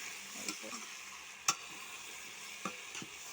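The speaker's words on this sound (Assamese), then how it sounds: "এয়া আমি লৰাই আছোঁ" Local chicken meat stirred in a pot while cooking, giving soft scraping and a few sharp spoon knocks over a steady low sizzle, fairly quiet and close.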